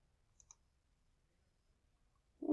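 Computer mouse clicked during software work: two faint, quick clicks in near silence, then a burst of voice at the very end.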